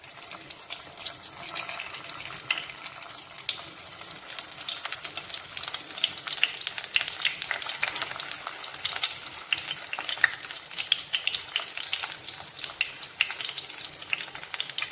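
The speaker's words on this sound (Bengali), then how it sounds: "তেল গরম হয়ে গেছে, আমি আস্তে আস্তে করে পটলগুলো দিচ্ছি" Pointed gourds (potol) stuffed with fish roe fry in hot oil, giving a dense, crackling sizzle with sharp pops and spatters throughout. It is close and fairly loud, with no talk.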